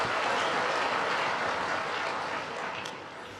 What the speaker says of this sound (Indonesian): tepuk tangan untuk berita baik boleh